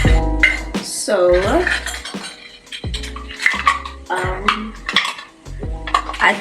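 Baking dishes and utensils clatter and clink while being washed in a kitchen, with scattered metallic knocks and rattles over someone talking throughout.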